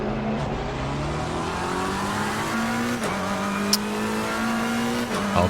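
A racing video game car engine drones steadily at high revs, dipping briefly between gear shifts and climbing again, loud and continuous with no talking.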